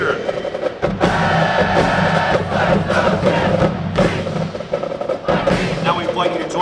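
A crowd at a University of Akron Marching Band family and friends show roars through the Zips cheer, loud and sustained with rhythmic shouted bursts and a brief lull near the one-second mark.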